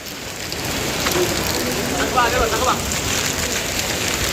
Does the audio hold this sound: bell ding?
no